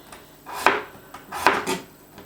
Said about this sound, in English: So first off, I'm going to peel the spuds, and then we want to, well, sort of cut them in half and then slice them.